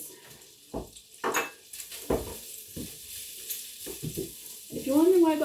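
Onions fry in a pan for Filipino adobo, heard as intermittent scraping and stirring knocks over a soft sizzle, with a brief high tonal sound near the end.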